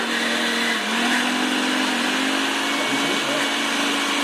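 A steady, loud blender motor whir on its first speed setting runs throughout with a droning hum underneath.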